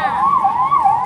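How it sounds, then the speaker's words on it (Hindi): A loud ambulance siren wails close by, its pitch sweeping up and down in a steady repeating cycle with no talking. "एम्बुलेंस"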